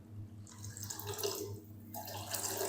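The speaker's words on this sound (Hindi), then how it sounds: "थोड़ा सा ना हम तकरीबन 1 कप पानी और शामिल कर देंगे" Water pours from a cup into a cooking pot for dal and chicken haleem, a soft splashing trickle that comes in two short bursts, fairly quiet and close, with no talking.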